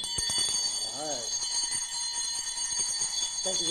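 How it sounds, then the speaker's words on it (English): A bell rings to mark the New Year at a Detroit gathering of city leaders, sustained metallic tones running throughout while voices talk and murmur nearby. "we are going to ring in the New Year with a bell and not a bang"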